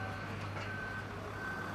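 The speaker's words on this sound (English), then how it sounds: "You can see now that lorry is on its way back." A reversing lorry on a residential building site, its steady backing beeper sounding as a continuous tone over the low rumble of an idling engine, fairly close, with no talk.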